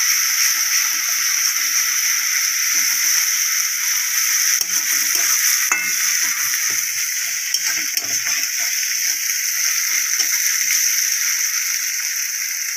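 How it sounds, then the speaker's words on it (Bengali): Poppy seed paste and spices frying and being cooked down in a pan for Bengali mustard hilsa, a steady close bright sizzle throughout with faint scraping of stirring, no talk. "মশলাটা একটু ভালোভাবে কষে নেব।"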